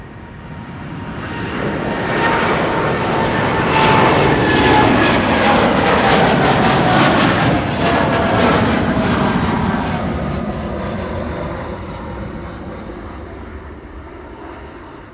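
A Boeing 787-9 Dreamliner takes off from Amsterdam Schiphol's Kaagbaan runway, its jet roar swelling loud and broadband, holding steady near its peak, then slowly fading as it climbs away.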